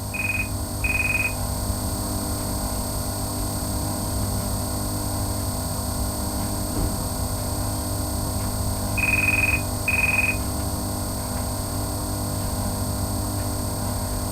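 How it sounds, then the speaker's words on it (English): Two pairs of short electronic guard-to-driver beeps from a model train, one pair near the start and another much later, over a steady low hum with no voices. "a guard to driver beeper"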